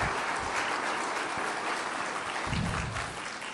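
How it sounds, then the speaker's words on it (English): A crowd at a Chicago economic forum gives a standing ovation, dense sustained clapping filling the room at close range, steady and loud throughout with no clear break. "Standing ovation."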